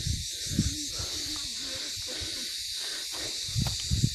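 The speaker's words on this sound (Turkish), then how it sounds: "Soluk soluğa kaldık." Heavy, ragged panting of a person out of breath while walking among ancient hilltop ruins. Rough breaths come in uneven bursts over a steady airy hiss, loudest at the start and end.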